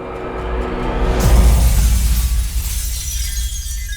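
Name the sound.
shattering sound effect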